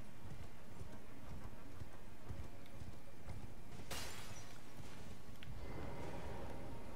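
A horse gallops in Elden Ring, in Caelid, its hooves beating out a steady rhythmic clip-clop. A sharp crash cuts through midway, and no one speaks.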